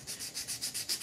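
Rhythmic scratchy strokes sanding a statue, about eight back-and-forth passes at a steady pace, close and moderately loud with no talking.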